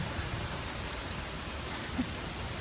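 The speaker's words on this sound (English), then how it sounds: "Yeah, it's nice and breezy, it's raining, we love the water, it's all good." Steady rain falling during Hurricane Irma in South Florida, a constant close hiss of drops on surfaces with no talk, continuous and even throughout.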